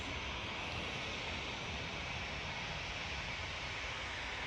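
A large airliner taxis back to the gate at Manchester Airport, its engines giving a steady, even rumble with a broad hiss that holds level throughout, heard alone with no voices.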